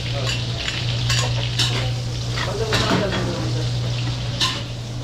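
Garlic and onion sizzle as they sauté toward golden brown in a pan, a steady frying hiss with occasional clinks of stirring, and little talk.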